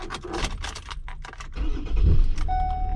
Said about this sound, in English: We're going to go ahead and start my vehicle.